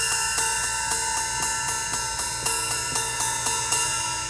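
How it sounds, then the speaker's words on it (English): A ride cymbal on a drum set is ridden with a steady stick pattern, about four even pings a second with a shimmering metallic wash sustaining between strikes, close and clear with no talking. "but when you're gonna ride the cymbal."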